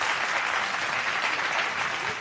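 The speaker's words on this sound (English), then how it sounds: "Keep clapping until they make their way back to their seats." Steady, sustained audience applause fills a live event hall, dense clapping at an even level throughout with no voices over it.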